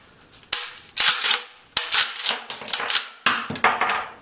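Airsoft Dominator DM870 shotgun being pumped and cycled, with sharp metallic clacks of the action and ejecting shells in about four quick rattling bursts, loud and close with no voice.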